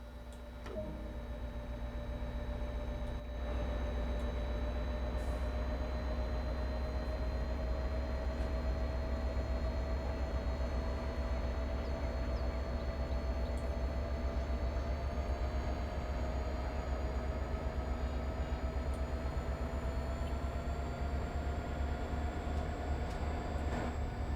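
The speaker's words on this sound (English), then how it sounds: "Proper diesel noise." A diesel train engine idles and then runs in Train Sim World 2 on the Boston Sprinter line, a steady, continuous drone with faint tonal whines rising slowly and a tiny click near the start.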